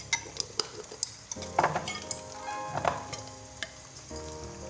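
Green beans and egg, seasoned with salt and red pepper flakes, sizzle loudly in a pan while a utensil stirs them, scraping and clinking against the metal several times.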